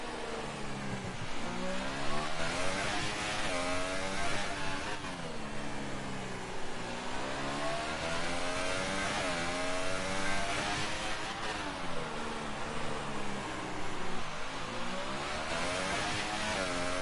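A race car at the American GP runs at full throttle down the back straight toward about 200 mph, engine loud and close as it climbs through gears in repeated rising pitch sweeps, with no voices.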